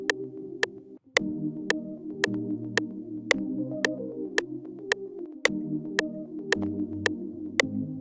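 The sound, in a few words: beat played on the Afro Labs plugin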